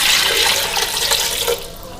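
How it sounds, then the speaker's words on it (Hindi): Water pours steadily into a pressure cooker holding frozen beef keema for achari keema, a continuous splashing rush that eases off near the end, close and fairly loud with no talking. "और डालेंगे पानी।"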